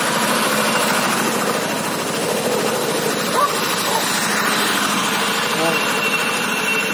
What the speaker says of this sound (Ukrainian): Це Кащий трактор називається